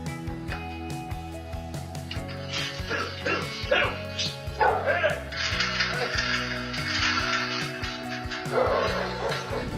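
A dog confronting a thief barks and yips repeatedly in sharp bursts, with some whimpering, close to the microphone over background music.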